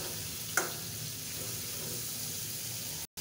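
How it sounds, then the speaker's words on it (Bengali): Two pieces of fish frying in an oily spice masala in a pan, a steady close sizzle with one brief clack near the start, then the sound cuts out for a moment near the end. "তেলটা উঠে আসতে দিয়ে দেবো সেই 2 পিস মাছটাকে ভালোভাবে কষিয়ে বেছে নেব"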